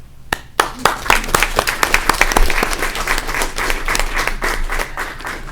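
A ceremony audience applauds national team competitors during a big check presentation, with loud, sharp individual claps at first that build into a sustained round of crowd clapping.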